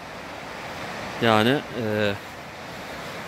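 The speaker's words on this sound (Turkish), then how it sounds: "dere çok güzel tabii ki" A mountain stream flowing in the French Alps gives a steady, moderate rush of water throughout, with someone speaking briefly over it in the middle.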